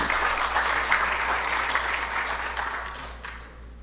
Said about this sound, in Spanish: Por favor, recibamos con un aplauso.